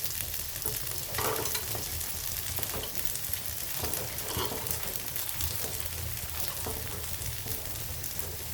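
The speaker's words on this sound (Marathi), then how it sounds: "आता खालची साईड पण आपण चांगली भाजून घेऊ" A poha and potato breakfast snack roasting on its underside in a lightly oiled pan, with a dense, even sizzle and crackle that runs unbroken throughout.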